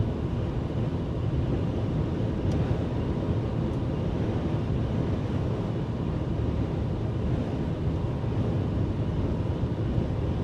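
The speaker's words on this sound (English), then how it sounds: "this wind is something else" Strong wind buffets a microphone during an Oklahoma storm chase, a loud, constant broadband roar that never lets up for the full stretch, with no voices.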